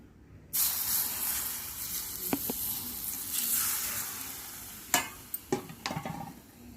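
Heated oil with garlic poured over raw mango pickle, giving a sudden loud sizzling hiss that holds steady, followed by a few sharp clinks and scrapes as the mixture is stirred.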